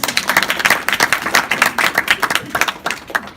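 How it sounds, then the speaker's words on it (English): A small group claps in quick, uneven bursts at home with a young child, the separate hand claps near and fairly loud, tapering off toward the end without any talk. "Let's give it a round of applause"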